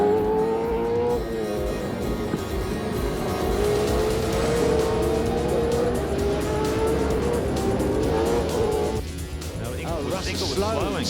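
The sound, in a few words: V8 Supercar race car locking up its rear brakes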